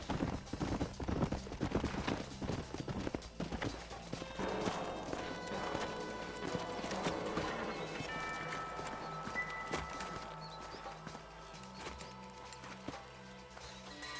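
Horse hooves clip-clop steadily in Red Dead Redemption, several animals trotting then slowing, with a music score and ambient game sounds layered underneath.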